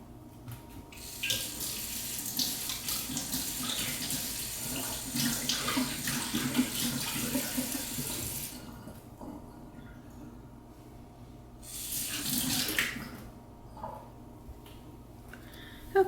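Tap water runs steadily into a sink mid orchid repotting, a broad continuous rush that eases off near the middle, then gushes again briefly before dropping back to a soft trickle.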